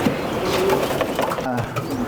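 Racing pigeon hens cooing in a loft, soft low coos repeating steadily against a busy background with voices nearby.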